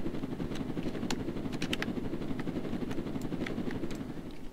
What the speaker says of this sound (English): I thought I heard helicopter. Oh, he must have flown over.